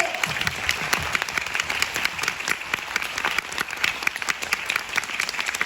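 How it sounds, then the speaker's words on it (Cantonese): A theatre audience applauding the cast and crew at a stage play's curtain call: dense, sustained clapping from a sizeable crowd that holds at an even level throughout. "所以好希望你哋可以俾熱烈嘅掌聲"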